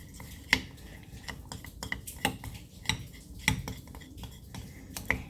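A utensil stirs clear glue for homemade slime, clinking against the sides of a container in a series of sharp, irregular taps over soft, wet mixing.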